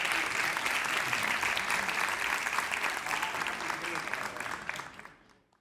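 Lecture audience applauding two young presenters after a talk on Imam Al Hussein, a dense round of clapping that stays full before thinning out and dying away at the end.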